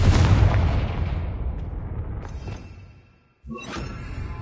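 Confringo fire spell from Hogwarts Legacy exploding with a loud booming burst that rolls off into a long decaying rumble, followed after a short silence by a second sharp blast.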